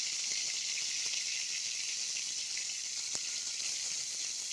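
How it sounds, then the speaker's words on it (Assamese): Brinjal slices fry in a pan with a constant bright hiss and fine crackle, steady and moderately quiet, with no voices over it. "প্ৰথমতে বেঙেনা ফ্ৰাই কৰি লওঁ।"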